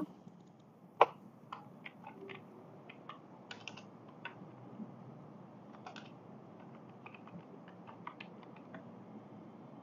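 Keys clatter on a computer keyboard in quiet, irregular bursts of soft taps, with one sharper click near the start.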